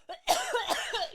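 A woman coughs hard and raspily in a short fit after snorting her drink, close to the microphone, with no talk over it.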